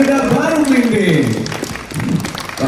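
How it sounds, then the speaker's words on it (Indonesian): Applause from a crowd in the stands at a nighttime traditional legend spectacle with water fountain show in Semarang, Central Java, with steady clapping mixed with an announcer's amplified voice and music. "Sekali lagi tepuk tangan yang meriah untuk spektakel tradisional legenda Baru Klimbing."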